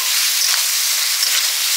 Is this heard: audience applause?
no